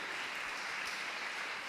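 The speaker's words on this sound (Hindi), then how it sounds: "Give the Lord a big clap offering today." Congregation clapping during a church praise service, a dense, steady wash of many hands applauding together at moderate distance, with no pauses across the short stretch.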